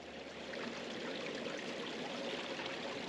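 Water trickles steadily from the Illy Willy water spring near Chelmorton, a soft, continuous outdoor babble heard close and alone, with no voices.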